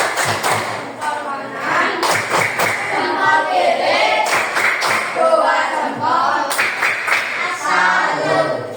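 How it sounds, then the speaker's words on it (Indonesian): A school class performs the rhythmic 'tepuk salut' clap, with sharp group handclaps falling in a patterned beat alongside the children's chanting voices throughout. "Kita bareng-bareng melakukan tepuk salut ya."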